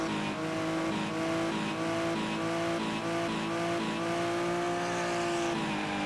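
Race car engine in the Wreckfest racing game easing off the throttle, a steady loud droning tone with shifting pitch throughout, with faint tire noise and no talk.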